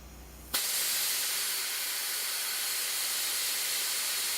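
A direct spring-loaded pressure relief valve pops open suddenly after a low hum, then releases gas in a loud, steady, broadband hiss that continues without letup.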